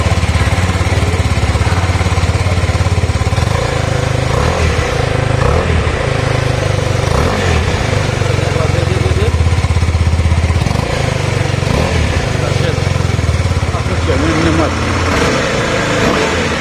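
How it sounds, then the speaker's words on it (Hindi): Exhaust note of a 2021 KTM 250 Adventure motorcycle, a loud, continuous, close engine drone that holds steady with small rises and dips for over fifteen seconds. "चलिए सुन लेते हैं अब इस बाइक का एग्जॉस्ट नोट।"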